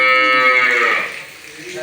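A Holstein Friesian cow gives a single long, close moo that fades out toward the end, with no talk over it.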